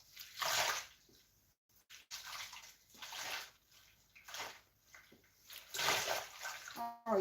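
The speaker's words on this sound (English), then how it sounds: "You dip it inside the water with your shampoo." Something is dipped and swished in a basin of water with shampoo, giving repeated bursts of splashing and sloshing with short pauses between them, close by and with no talking.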